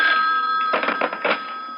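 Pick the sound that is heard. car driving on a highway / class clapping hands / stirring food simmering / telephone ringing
telephone ringing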